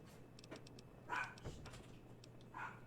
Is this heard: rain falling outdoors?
no